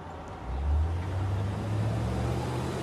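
Heavy road vehicles rumble past close by, a low steady roar that swells and holds with broadband road noise.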